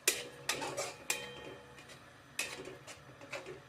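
Pork curry being stirred with water and turmeric in a pot, a spoon scraping and clinking against the metal in a few sharp, quiet strokes separated by pauses.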